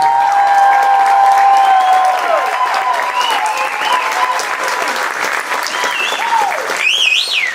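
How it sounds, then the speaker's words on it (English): A pageant audience breaks into loud, sustained applause and cheering, whistles and whoops rising over the clapping crowd nearby. "Please, everybody, good round of applause for Joey Wanape."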